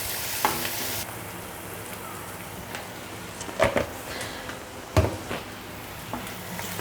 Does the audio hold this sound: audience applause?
no